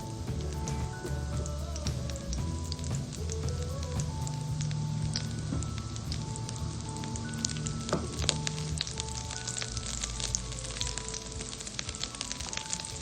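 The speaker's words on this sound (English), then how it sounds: "Put in onion that has been sliced up into the pan." Sliced onion frying in a pan for kimchi fried rice gives a steady, dense sizzle like rain on a surface, with faint stirring and clinks close by and no talk.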